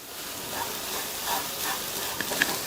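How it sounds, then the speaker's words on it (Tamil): Cabbage mixed with masala and salt stirred and sautéed in a pan, giving a steady soft sizzle with faint scraping stirs and a few small crackles, no talking. "உப்பு சேர்த்து நல்லா ஒன்று போல் கலந்து விட்டுட்டு சிம்லேயே வச்சு 3 to 4 நிமிஷத்துக்கு இந்த முட்டைக்கோஸ் வந்து நல்லா வதங்கிட்டு இருக்கட்டும்"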